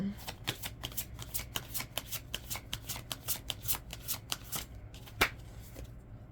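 Tarot cards shuffled by hand in a steady run of quick riffling flicks, close and clear, ending with a single sharper snap as a card is drawn.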